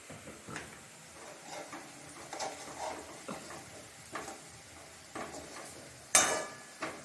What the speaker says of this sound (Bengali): পেঁয়াজটা একদম লাল লাল করে ভাজা হয়ে গেল